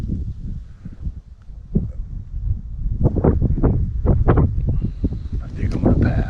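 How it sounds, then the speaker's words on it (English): Strong wind gusts buffet a mountaintop in a forest of burnt, dead trees in the Sierra Nevada, a loud rumbling roar with microphone buffeting that swells in bursts toward the end. "This wind is a bit much."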